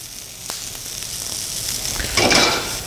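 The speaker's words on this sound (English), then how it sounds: "We're going to add some of the sliced beef right here." Thin-sliced, pre-cooked beef for a Philly cheesesteak sizzles in a hot skillet, a steady frying hiss that swells briefly near the end, with a few faint clinks of a utensil against the pan.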